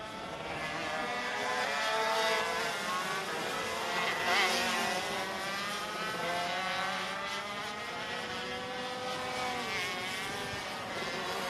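125cc ROK Shifter Limited go-karts race at ROK Sonoma, a steady, dense engine drone with overlapping high-pitched whines rising and falling as several karts pass, loud throughout with no talk.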